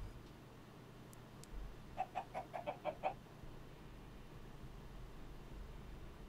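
A chicken clucks in modded Minecraft, a quick run of about six close, evenly spaced clucks heard alone over faint background hiss.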